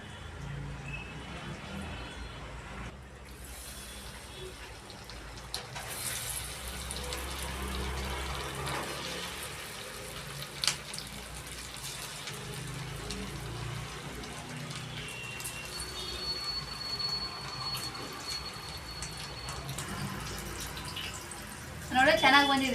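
Chicken kebabs going into hot oil to fry crispy, a steady close sizzle and bubbling that runs throughout, with a sharp clatter partway through and a louder burst at the end.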